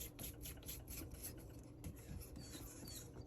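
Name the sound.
sanding a homemade fountain pen nib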